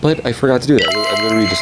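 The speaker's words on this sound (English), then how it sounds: "that's my phone, got a text" A phone text message notification tone chimes in sustained tonal bursts through the latter half, overlapping someone speaking in the foreground.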